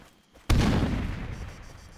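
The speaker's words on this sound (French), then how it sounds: "Grenade." A grenade detonates in the Arma 3 military shooter, a single sharp loud blast that hits suddenly and then rolls off into a long, rumbling decay.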